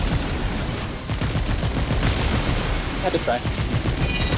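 Gunfire from a gun in the video game Remnant 2, rapid repeated shots over a dense rumbling backdrop of combat noise, with a player speaking briefly.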